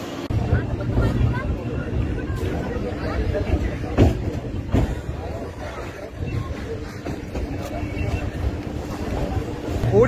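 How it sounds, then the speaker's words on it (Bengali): A Namkhana-bound local train pulls away from a platform at Sealdah station with a continuous, loud rumble and wind-like rush, joined by a few sharper knocks, while a voice talks over the noise. "এই মুহূর্তে শিয়ালদা স্টেশন থেকে নামখানাগামী এই লোকাল ট্রেন কিন্তু ছেড়ে দিল"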